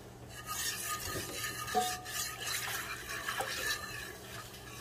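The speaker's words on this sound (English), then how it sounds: "we're just going to stir and stir and stir and not stop stirring" Sausage gravy made with milk is stirred in a pan, a faint, steady scraping swirl that repeats without pause.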